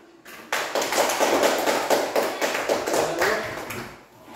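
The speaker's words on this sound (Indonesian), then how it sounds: "Baik, tepuk tangan." A class claps its hands after a group's presentation in a micro-teaching lesson, dense steady applause from many people nearby, starting abruptly and running for about four seconds before fading at the end.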